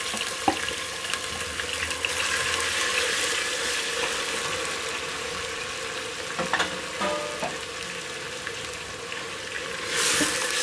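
Mutton marinated in ginger and garlic sizzles steadily in a hot pan, a continuous crackling fry with occasional stirring clinks and scrapes over about ten seconds, with no talking.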